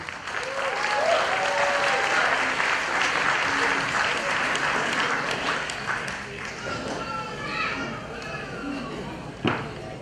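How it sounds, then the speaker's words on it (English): Wedding guests applaud a newly married couple after their first slow dance, sustained crowd clapping at fairly close range that fades a little toward the end, with a faint voice and scattered shouts mixed in. "Ladies and gentlemen, please give them a round of applause."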